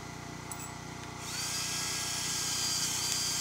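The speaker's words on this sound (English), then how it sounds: "Just use an impact gun." Power tool, an impact gun, whirs up and runs steadily while driving lag bolts into outdoor stairs at a lake-front home, loud and close with no talking.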